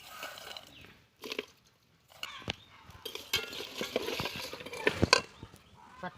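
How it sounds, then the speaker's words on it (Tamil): Jaggery stirred into water in a cooking pot, with scattered clinks and scrapes of a spoon against the metal, broken by short pauses and a louder clatter near the end. "வெல்லத்தை போட்டு நல்லா கிண்டி விடுங்க."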